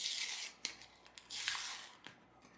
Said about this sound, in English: we're just going to peel there and peel it open